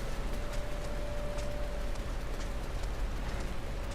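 Steady rain pours in the video game Final Fantasy XIV, a dense, even hiss of drops on surfaces that runs without a break, with a faint low tone droning underneath.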